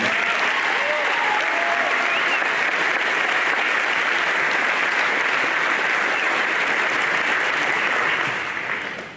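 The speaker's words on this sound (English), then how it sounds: "Let's have another round of applause for these 23 individuals." Sustained, loud applause from a gathered crowd honoring 23 athletes at a spring athletic signing ceremony at Olathe East High School. The clapping stays dense and steady throughout, then tapers off at the very end.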